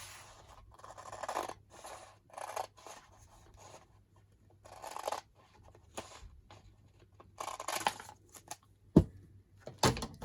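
Scissors cut a manila folder up close in a quiet room: a series of short, crisp snipping and scraping strokes in irregular bursts with pauses between them.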